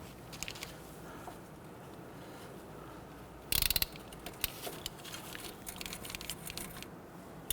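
A ratchet turns a 10mm bolt holding the ABS sensor in the front steering knuckle of a Honda Ridgeline. The clicking is faint and scattered, with one loud, dense burst of close clicks partway through.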